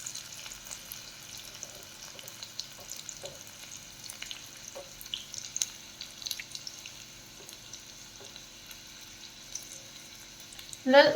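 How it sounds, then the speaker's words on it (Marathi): Sliced garlic fries in hot oil with a faint, steady crackling sizzle and scattered pops, a clink of a utensil at the very end, no talking. "लसूण छान असं इथे तळून घ्यायचं आहे"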